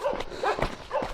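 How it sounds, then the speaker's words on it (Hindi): Several dogs bark in quick, sharp bursts nearby, about three barks in a second, loud and clear without speech. "कुत्ते भौंक रहे हैं"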